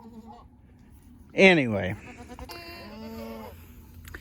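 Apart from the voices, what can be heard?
goats bleating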